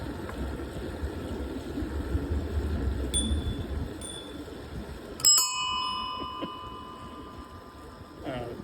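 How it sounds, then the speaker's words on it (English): A Dutch ding-dong bicycle bell rings out several times during a summer ride on a country loop road, bright and close, over faint road and wind noise. "That is a genuine Dutch ding-dong bell I have on my bike."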